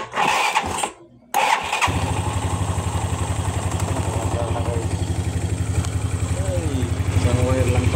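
A Yamaha Mio Sporty motorcycle cranks after a brief pause, then its engine catches and settles into a steady close idle with a light rattly putter and a few small revs.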